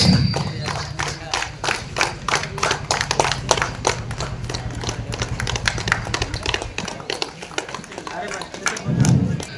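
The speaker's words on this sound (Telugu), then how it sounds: "క్లాప్స్" Applause from the audience at a village cricket tournament prize ceremony, a steady run of dense, sharp claps lasting several seconds while a voice speaks over them.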